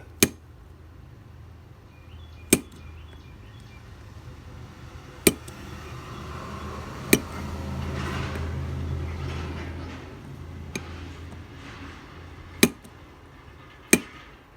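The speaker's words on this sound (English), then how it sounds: "I'm just barely tapping it, because what you don't want to do is you don't want to break one of these off" A screwdriver taps lightly on a jet in a generator carburetor, giving about seven sharp, separate clicks spaced a second or two apart over a low background rumble.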